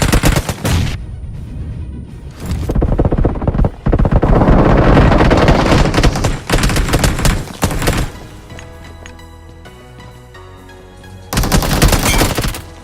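Gunfire in a BGMI battle-royale fight, with loud bursts of rapid automatic fire, a heavy blast that fits a grenade, and quieter stretches between volleys, all close and harsh.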